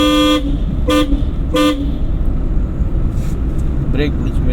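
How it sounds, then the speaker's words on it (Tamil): A car horn honks three times in quick bursts over a rumbling engine during a driving lesson, with a fainter honk later and a person talking throughout. "ஹார்ன் அடிக்கணும்,"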